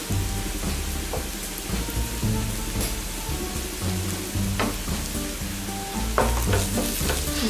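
Squid roast masala with chili powder, coriander powder and meat masala sizzles in a pan while being stirred and sautéed, a steady close crackle broken by scraping strokes and clinks.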